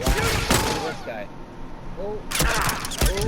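Rapid gunfire from a shooting video game, bursts of shots at the start and again near the end, with players talking over the action throughout.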